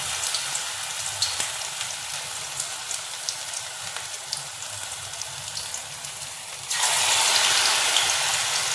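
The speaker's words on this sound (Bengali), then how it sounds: "চপের সিস্টেমে করছি, তাই একটুখানি বড় বড় দিচ্ছি গোলা।" Large balls of batter drop into hot oil in a steel kadai for chops, giving a steady crackling sizzle that jumps to a louder, fuller hiss near the end.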